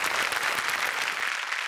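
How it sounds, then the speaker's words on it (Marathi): A studio audience on a Marathi comedy show claps loudly and continuously, a dense, even wash of applause with no pauses. "यांच्यासाठी जोरदार टाळ्या."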